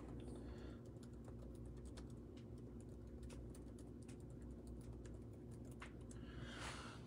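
Quiet, steady typing on a computer keyboard, with rapid light key clicks running throughout over a low background hum and no talking.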